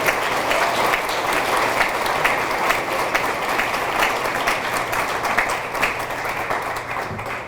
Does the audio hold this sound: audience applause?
yes